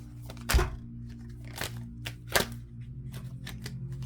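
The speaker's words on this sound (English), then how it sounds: "Okay, 3 more shuffles." A few brisk riffling bursts of tarot cards being shuffled, spaced about a second apart, over a low steady background hum.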